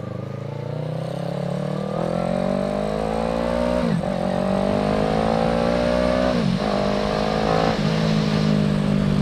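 A 2016 Kawasaki Ninja 650R (ER6F) fitted with a quickshifter pulls hard under acceleration, its engine note climbing steadily and cutting briefly at three quick clutchless upshifts, loud and close throughout.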